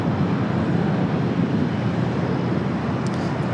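An Emirates airliner departs LAX for Dubai, its engines a broad, steady roar heard throughout, loud and constant.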